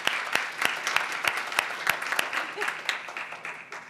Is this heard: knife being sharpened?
no